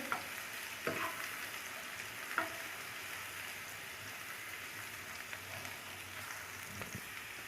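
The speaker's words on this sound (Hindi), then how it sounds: "लहसुन का पेस्ट डालती हूँ और इसको हम हल्का सा फ्राई कर लेंगे।" Steady sizzling of garlic paste frying lightly in hot oil fills the clip, with a few soft clinks of stirring.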